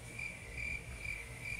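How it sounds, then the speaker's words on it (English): Crickets chirp in a steady, evenly pulsed trill, played as a comedic sound effect. The chirping is clear and fairly quiet, with no other sound over it. "Insert crickets."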